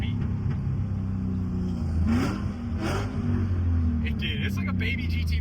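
A Ford Mustang 4.6 3-valve V8 engine rumbles and blips through downshifts, revs rising and dropping with a throaty growl up close, while people talk over it.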